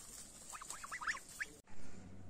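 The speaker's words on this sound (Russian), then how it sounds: "а теперь гуси тут" Several geese honk and cackle nearby in a quick, uneven burst of calls, cut off abruptly, followed by a low steady hum.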